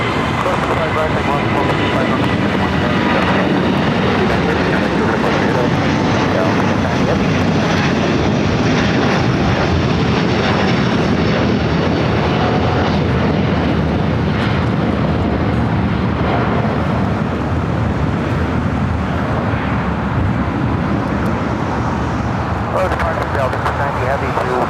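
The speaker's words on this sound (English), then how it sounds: "that Delta A330 Neo heading to Paris, now rolling down, 25 right" A Delta Airbus A330neo bound for Paris rolls down runway 25 right at LAX on takeoff, a loud, steady jet-engine roar that fills the whole stretch, with voices faintly underneath.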